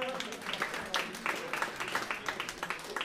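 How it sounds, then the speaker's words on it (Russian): Applause from a concert audience welcoming a pianist, moderately close and fairly faint, made of distinct overlapping claps that fade in and out over a few seconds. "ваши аплодисменты."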